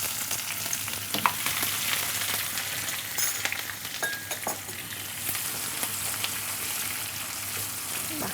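Chopped onions hit hot oil with whole garam masala spices and dried red chillies, setting off a loud, continuous frying hiss with a few sharp pops and stirring scrapes, up close and with no voices.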